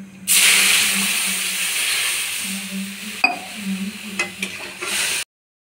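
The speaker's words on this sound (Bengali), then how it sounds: "ফোড়নটা ভাজা হয়ে গেছে, এবার জল দিয়ে দেবো।" Water is poured into a hot pan of fried whole cumin seeds and a dried red chilli, raising a loud, steady sizzling hiss that lasts about five seconds with a few sharp crackles before cutting off.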